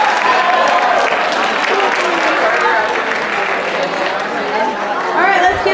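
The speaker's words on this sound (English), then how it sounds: "let's give everybody another big round of applause" Students and families at a high school freshman awards assembly clapping in a large hall, a loud continuous wash of applause mixed with crowd chatter and voices throughout.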